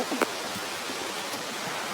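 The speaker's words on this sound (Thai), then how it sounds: "ฝนตกดีขนาด" Steady rain falling outdoors under a partly cloudy, darkening sky, a continuous even hiss of broad noise throughout with a couple of faint brief ticks near the start.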